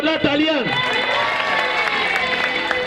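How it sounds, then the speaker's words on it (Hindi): Loud crowd applause and cheering at a prize-giving for a tug-of-war winner at a large school event, a steady dense wash under an announcer's voice. "सबाब के लिए जोरदार तालियां।"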